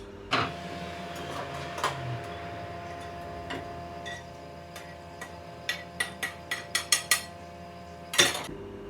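Zucchini spaghetti with tomato and basil being lifted onto a serving plate, with a series of light metallic clinks and taps of utensils against the dish, sparse at first then quicker near the end, close and fairly quiet.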